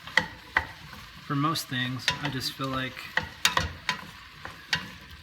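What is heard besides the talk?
stirring food in a pan with a wooden spoon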